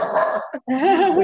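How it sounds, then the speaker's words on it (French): A dog barks twice up close, short harmonic yelps broken by a brief gap, with a voice speaking French just around them. "C'est mon chien."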